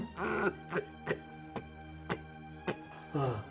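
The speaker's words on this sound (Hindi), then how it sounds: "देखिए खांसी उठ रही है" A person coughs repeatedly, six or seven harsh bursts spaced unevenly, close by in a quiet room, with a hoarse voiced sound at the start and end.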